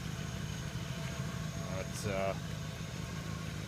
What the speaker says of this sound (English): you can definitely hear it sputtering. Could be starving for fuel.